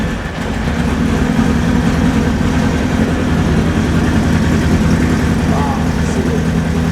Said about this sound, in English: definitely want to hear that bike